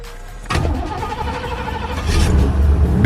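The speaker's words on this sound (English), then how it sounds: "First cold start this morning." Chevy box truck engine cold-starting: a short cranking burst at about half a second catches into a loud, steady close-up idle that swells louder near the end, with no talk over it.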